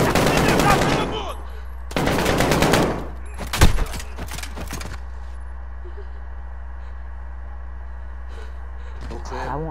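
Gunfire in the video game Call of Duty: Modern Warfare, with bursts of rapid automatic shots early on and a single loud sharp shot in the middle, followed by quieter game ambience.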